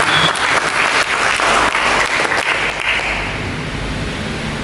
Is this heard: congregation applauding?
yes